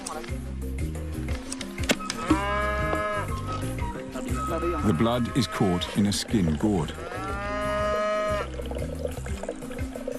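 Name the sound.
cattle mooing in the Ngorongoro region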